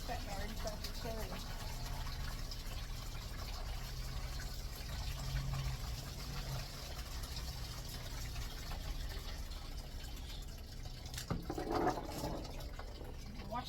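Running tap water rinses cherries, a steady broadband wash that goes on throughout, with a voice speaking faintly under it and a brief clatter near the end.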